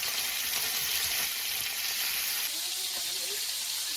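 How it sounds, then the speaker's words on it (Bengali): Fish fries in a pan while lunch is cooked at home, a continuous bright sizzle and crackle of hot oil steady throughout, with faint background voices underneath. "মাছ ভাজা চলছে"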